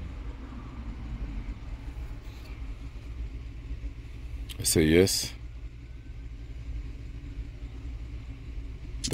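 A Hyundai's engine idles with a low, steady rumble while a smart key is being programmed, and a short spoken phrase rises briefly over the hum midway through.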